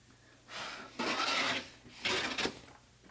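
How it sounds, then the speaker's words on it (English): A Lie Nielsen No 8 jointer plane is pushed over a sapele wood board, skipping across the high points. Two close, raspy scraping strokes are heard with quiet pauses between them. "You can hear that skip, skip, skip as I'm just hitting the high points here"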